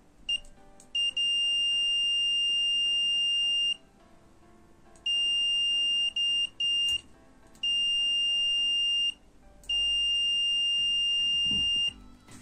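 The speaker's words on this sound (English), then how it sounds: "Now let's test the continuity mode." Mestek DM100A multimeter in continuity test mode giving a series of steady, high-pitched electronic beeps, each lasting one to three seconds, separated by short silences and faint handling clicks, close and clear.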